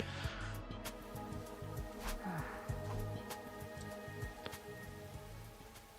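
Steady rain falls in the video game Hundred Line Academy, a soft, continuous patter of drops with occasional sharper splashes, faint and even from start to finish with no talking.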